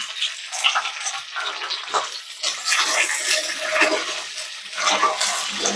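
Onion and capsicum for chilli chicken sizzle and hiss in a hot pan, a steady close crackling fry with small bursts and stirring, no talk.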